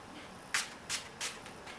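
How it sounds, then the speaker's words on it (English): Miss Sporty Ultimate Fixing Spray misting onto a face, three short, quiet hissing puffs spaced about a third of a second apart. "I'm going to use the Miss Sporty Ultimate Fixing Spray"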